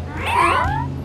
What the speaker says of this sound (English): Come on, kitties, make room for Robo-Dog.